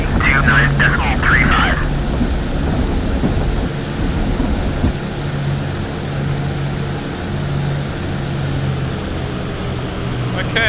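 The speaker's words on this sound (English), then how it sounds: "that was a pretty smooth takeoff" A P-51D Mustang takes off in the DCS flight simulator, its engine a steady, loud droning roar throughout. Radio chatter sits over it at the start.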